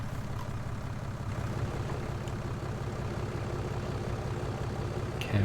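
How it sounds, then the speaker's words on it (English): A video-game tractor engine runs at a steady, low, rumbling idle close by for several seconds, with a faint knock near the end. "And start the tractor's engine."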